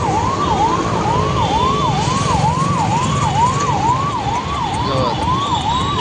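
An ambulance on an emergency run in a BRTS lane sounds a rapid, evenly cycling siren, loud and nearby for the whole stretch, with steady traffic rumble underneath and no talk.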